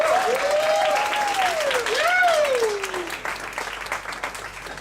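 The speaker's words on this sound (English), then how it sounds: "Can I get an applause right there?" An audience at a PechaKucha Night event in Ubud claps in sustained applause that swells and then slowly fades, while a voice rings out over it.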